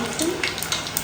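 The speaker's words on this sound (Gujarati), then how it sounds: "વઘારવાનું કામ ચાલુ થઈ ગયું" Tempering spices and garlic sizzle in hot oil for a fenugreek curry, a steady crackling fry with a few brief stirring bumps, fairly close and moderately loud, with faint voices in the background.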